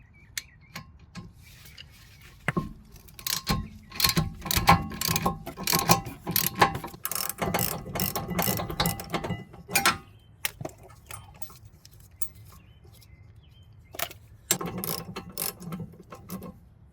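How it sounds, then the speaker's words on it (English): A hand ratchet loosens the 14 mm rear brake bolts on a Hyundai Tucson. The close, crisp clicking comes in several irregular bursts with short pauses between them. "I'm going to use my bigger ratchet for this. Just loosen them up first."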